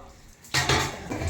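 A metal utensil scrapes and clanks against a large pot of mutton biryani, a short burst of stirring that starts abruptly and continues with rough, scraping texture.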